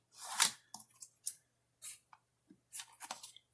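A paper cutter trims pink paper in a quiet room, making a series of short crisp slicing and rustling sounds in uneven bursts, close and fairly soft.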